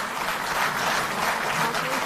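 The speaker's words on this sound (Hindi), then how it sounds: "जोरदार ताली बजती रहे" Sustained applause from an audience filling an auditorium at a Delhi government event, a steady wash of clapping throughout with some voices mixed in.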